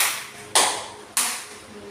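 Two distinct hand claps in a group clapping game, crisp and fairly close, spaced roughly half a second apart with quiet in between and no voices.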